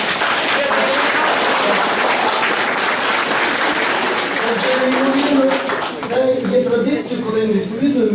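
A crowd applauds steadily at a city historical quest event held inside historic walls. The clapping is dense and continuous, with voices rising over it toward the end.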